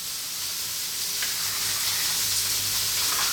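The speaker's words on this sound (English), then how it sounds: "So our chicken is cooking away." Garlic chicken sizzles steadily in a hot pan as it grills, a continuous close frying hiss with faint crackles and no voices.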